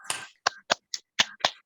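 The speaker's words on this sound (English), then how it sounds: "So to end all of this today, we're going to clap our hands" Six sharp hand claps in an irregular rhythm, close and fairly loud, each a crisp broadband smack with short silences between, at the close of a somatic breathing and tapping session.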